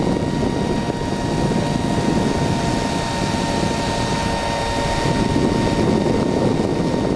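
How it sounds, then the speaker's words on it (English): A powered hang glider's engine and propeller drone steadily in flight over the North Shore of Oahu, Hawaii, a loud, continuous buzzing hum with a rumbling low end and steady tonal whine, close and uninterrupted, with no speech. "So even if the engine were to stop, you would still glide."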